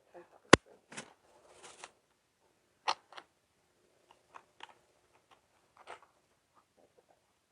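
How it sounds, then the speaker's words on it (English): Tissue paper is torn by hand in short crackly rips and rustles, a few sharp tears amid quiet pauses, with soft handling noises close by during craft work. "I'm just tearing off tissue, but if you have scissors and you're neat about it,"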